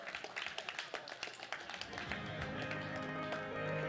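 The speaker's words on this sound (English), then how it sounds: "Please join me in offering a thunderous applause to I Think You Know Who." Applause at a MICHELIN Guide 2024 ceremony for Miami, Orlando and Tampa, welcoming the two-star restaurant's chef. Scattered claps and taps build into a denser, steady clapping from the audience.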